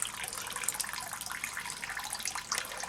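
Water steadily running and trickling out of a clogged drain pipe about 2.5 feet down in a dug hole, a continuous close hiss with no voices.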